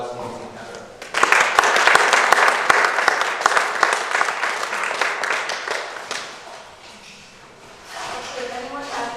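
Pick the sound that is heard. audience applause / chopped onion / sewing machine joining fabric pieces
audience applause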